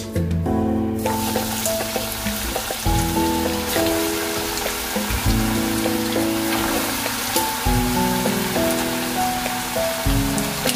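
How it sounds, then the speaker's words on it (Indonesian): Lemper, sticky rice rolls stuffed with minced chicken, frying in hot oil: a continuous crackling sizzle that stays dense and even throughout, with steady music playing underneath. "Oke, lanjut goreng lagi teman-teman."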